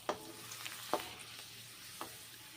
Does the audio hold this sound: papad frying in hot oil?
yes